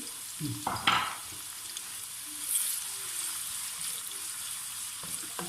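Two medium onions, chopped, dropped into a hot pan for chicken angara and sautéing, with a brief clatter at the start followed by a soft steady sizzle and hiss, close and moderately loud.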